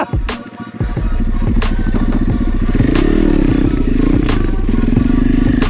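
An Apollo pit bike engine revs hard and steadily during a wheelie, buzzing loud and close with rising and falling pitch after a brief clattering start.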